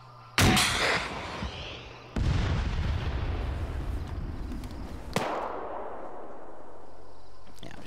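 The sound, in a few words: gunfire in a military video game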